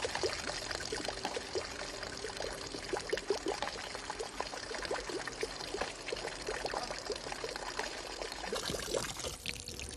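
Water from a spring in Crimea, near Alushta, pours and trickles steadily for about ten seconds, a faint continuous splashing stream with small irregular bursts.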